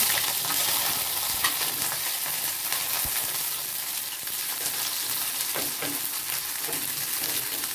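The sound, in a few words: chilli and onion frying in oil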